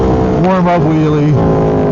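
A motorcycle engine revs hard during a warm-up wheelie in a bike lane, climbing in pitch, holding high, then dropping back, loud and close with a steady roar throughout.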